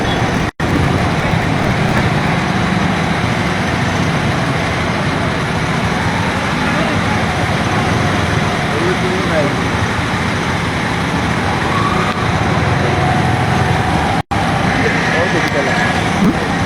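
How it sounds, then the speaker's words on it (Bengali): Dense road traffic jammed on the Sylhet-Dhaka highway near Telibazar, a steady broadband rumble of idling and creeping cars, buses and trucks filling the whole stretch, with voices talking faintly over it. "যানজট সৃষ্টি হয়েছে"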